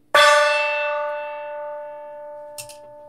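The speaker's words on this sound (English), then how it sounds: "That is a gong hit for sure." A gong is struck once near the start, blooming with a bright metallic clang and a long shimmering ring of sustained tones that slowly fade over a few seconds, with a faint brief tap near the end.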